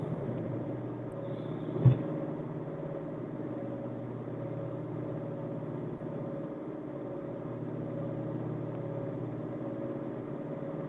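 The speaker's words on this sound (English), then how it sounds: "that droning car noise makes me like want to go to sleep" A car engine drones steadily from inside the vehicle on a road trip, a low continuous rumble that stays even throughout, with one brief knock partway through.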